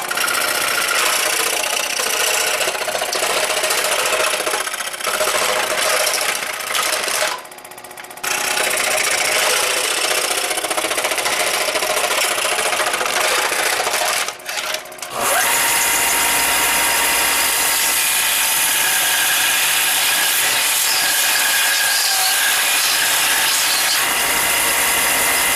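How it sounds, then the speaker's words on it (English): Bandsaw and scroll saw cutting a plastic Nerf Lawbringer blaster part, a loud continuous mechanical buzz and rattling whir lasting throughout, with a short dip partway and a shift to a harsher, brighter tone in the second half. "I'm going to minimize the front section on my bandsaw, scroll saw."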